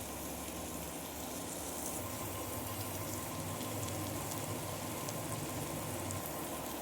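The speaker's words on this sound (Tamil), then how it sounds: "இப்படியே ஒரு 2 நிமிஷம் நல்லா வதங்கட்டும்." An onion, tomato and spice masala sautés in a pan, making a steady, even sizzle that crackles softly and continuously, with no voices over it.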